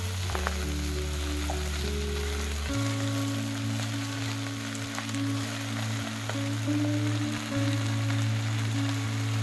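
Chopped greens go into a pan of frying onion and green chilli, giving a soft, continuous sizzle under a steady low humming drone, with no talking.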